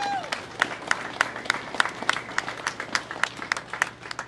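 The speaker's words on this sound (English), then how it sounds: "We get a big round of applause for them." Outdoor crowd at a community bridge ride event giving a round of applause, scattered rhythmic claps and cheering at moderate distance, with a voice briefly over the start.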